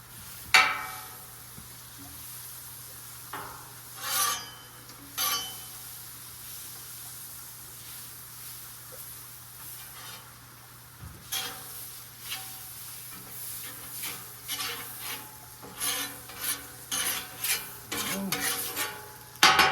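Butter cooking in a pan for grilled cheese sandwiches, a steady soft sizzle with a low hum beneath and scattered scraping and rustling sounds that grow busier toward the end, with no talking.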